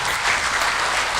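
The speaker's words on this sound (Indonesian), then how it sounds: "Mana tepuk tangan?" Audience applause at a training session for new distributors, a dense steady wash of clapping hands throughout, fairly loud and with no voices on top.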